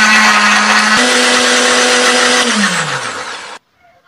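A blender grinds a wet spice paste of pepper, coriander, candlenut, garlic, shallot, ginger and turmeric with a little added water, running loud and steady, its motor pitch dropping near the end before it cuts off abruptly.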